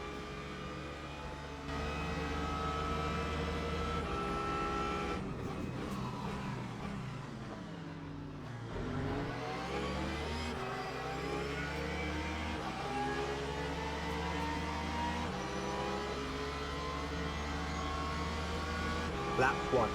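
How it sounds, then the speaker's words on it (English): GT3 race cars, including a Mercedes, BMWs and a Porsche, roar around Bahrain's Outer Circuit in the racing game Le Mans Ultimate, engines rising and falling through gear changes. A voice talks over the steady engine drone. "the Mercedes getting a really bad exit and pulling alongside"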